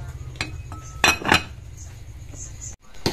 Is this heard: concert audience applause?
no